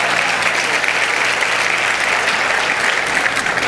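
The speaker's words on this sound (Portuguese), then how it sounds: "Dê mais um aplauso ao Senhor, porque Ele é bom." A church congregation applauds with thick, steady clapping that fills the space for several seconds, loud and unbroken, without voices on top.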